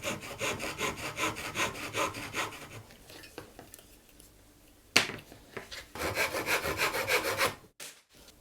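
A small saw cuts through a 100-yen shop picture frame in rhythmic back-and-forth rasping strokes, pausing briefly before a sharp knock and another quick run of strokes, close and alone.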